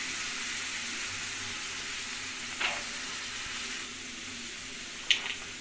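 Beans and vegetables sautéing in oil for egg noodles give off a steady, soft sizzle. Two brief louder scrapes or clinks break it, one near the middle and one near the end, with no talking.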